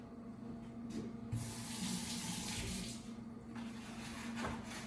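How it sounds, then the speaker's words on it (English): Tap water runs steadily into a kitchen sink while hands are washed under it, a continuous close splashing hiss with slight shifts in the flow and no talking. "And again, wash your hands a lot."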